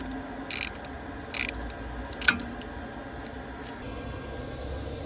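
A welded bolt on a Fiat 500 worked back and forth with a ratchet: three short, sharp metallic clicking bursts about a second apart over a steady low background hum, close and moderately loud.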